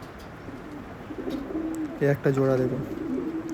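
Andhra and Malwai pigeons coo in a loft, a soft low cooing that swells into a louder burst midway, heard under a man's speech.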